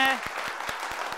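A brief burst of clapping from a group follows a voice, the claps fairly soft and evenly spaced.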